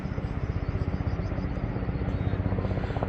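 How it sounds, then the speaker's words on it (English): Tourist helicopter flying over the Royal Gorge in Colorado, a steady rhythmic rotor chop and engine drone that holds for the full few seconds at moderate distance, with no voices over it. "There's the helicopter ride too."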